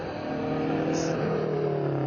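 A Group B rally car engine revs hard and steadily in a brief, loud burst at Goodwood, droning close by with a high mechanical whine.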